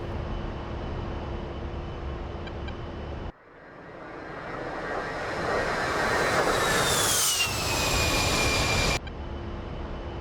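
A-10C II jet in the DCS simulator on approach: steady engine hum gives way to a swelling turbofan roar and high whine that peaks and bends in pitch as it passes close, then cuts back to the hum; no voices.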